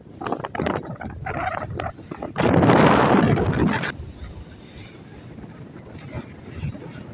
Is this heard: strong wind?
yes